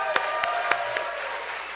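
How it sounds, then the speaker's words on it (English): An audience claps at an awards ceremony, a brief, moderately loud round of applause with a few sharper claps standing out over a steady tonal background. "So can I have everybody give a really big round of applause?"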